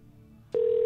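A telephone rings on a comedy call-in show, sounding as one steady, bright electronic tone that starts suddenly and holds, fairly loud, after a quiet stretch of faint background.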